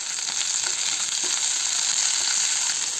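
Chillies and tomatoes fry in hot oil for a paneer curry, giving off a loud, continuous sizzle with faint stirring and no voices.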